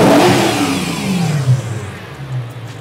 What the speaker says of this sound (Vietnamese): mình nghe được cái tiếng hút nạp của nó thế như thế nào